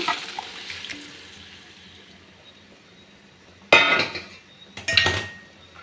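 Cooked dal tipped and mixed into ridge gourd sambar in a pot, heard as two sharp bursts of metal clanking and scraping against the pot after a quiet stretch of low background hum.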